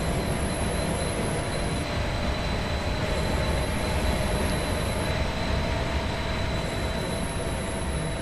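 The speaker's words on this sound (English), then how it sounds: "then train is coming" A train passes at a platform with a steady, loud rumble of wheels on rails and high metallic squeals and whines, sustained and close, no voices.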